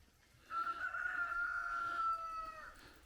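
Cockerels crowing at a campsite under palm trees in Belize, one long loud near crow sustained for about two seconds with faint background noise.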